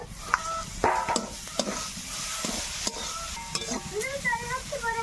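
Cauliflower florets sautéing with turmeric in a pan, a soft sizzle under repeated stirring clinks and scrapes, close and moderately loud, no speech.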